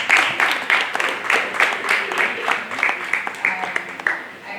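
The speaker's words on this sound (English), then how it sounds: "A round of applause for them." Audience at a university plastic-challenge finale claps for the participants, a lively burst of scattered, distinct handclaps that thins out toward the end, with some voices mixed in.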